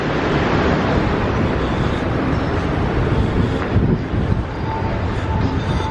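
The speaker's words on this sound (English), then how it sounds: "Oh, it's a little bit windy down here." Strong wind at a cruise ship port, loud continuous broadband rushing and microphone buffeting with a steady roar throughout and no talk.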